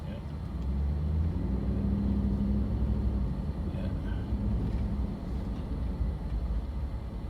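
Town traffic rolling past, a continuous low rumble of cars with a broad steady wash of road noise, while someone talks over it.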